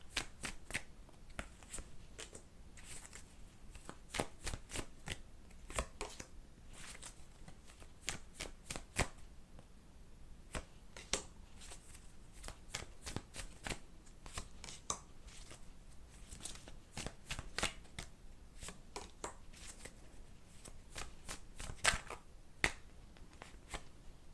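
Tarot cards being shuffled and drawn during a reading, a long run of quick crisp riffling and flicking close up, with irregular bursts and short pauses and no talk.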